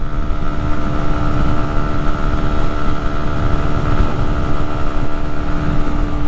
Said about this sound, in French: Donc je suis à 9000 tours là en 5e et je suis entre 100 et 110.